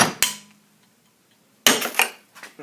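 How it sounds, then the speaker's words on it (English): Two sharp metallic hammer strikes ring out, knocking a metal plate off a 1993 Jeep Cherokee XJ door, the second followed by a few quick clanks of metal. "So I'm going to hit it off with the hammer."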